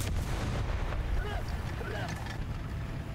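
A tank cannon fires in a tank video game, a loud booming blast at the start that rolls off into a low rumble, with a faint engine drone underneath.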